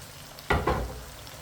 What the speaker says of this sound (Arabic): هنقلب بقى الطماطم مع الخليط الجميل ده